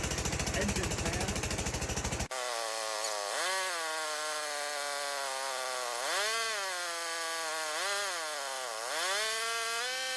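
Small engine of an air compressor for a 1960s Coca-Cola vending machine, a loud buzzing engine run that gives way to a droning engine note whose pitch swells and dips repeatedly, close by and steady.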